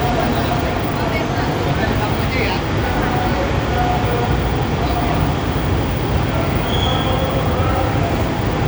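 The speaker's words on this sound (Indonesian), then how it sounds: "Masuk di jalur 2 adalah kereta LRT Jabodebek, tujuan Duku Atas." An LRT Jabodebek light rail train pulls into Jatimulya station platform, a loud, steady rolling rumble with a faint wheel squeal, filling the whole stretch without any speech.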